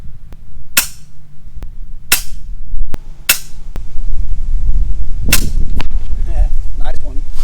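An FX Impact M3 air rifle fires at a soda can, several sharp close cracks spaced about a second apart, with faint background murmur and a brief voice near the end.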